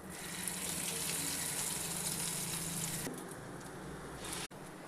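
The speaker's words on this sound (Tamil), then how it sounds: "இப்படி நல்லா அந்த ப்ரெட்டை எல்லாம் பக்கம் படுத மாதிரி வச்சு எண்ணெயில் போட்டு பொரிச்சு எடுங்கலாங்க" Bread donuts deep-frying in hot oil give a steady, close hiss and sizzle that runs unbroken, thinning slightly toward the end before a brief sharp cut.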